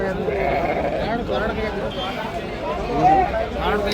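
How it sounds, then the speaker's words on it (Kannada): Sheep and lambs bleat repeatedly amid a busy crowd at the Sunday livestock market in Ranebennur, Karnataka, with people talking loudly nearby. "ಮರಿ ಕುರಿ ಭಾಳ ಚೆನ್ನಾಗಿದೆ"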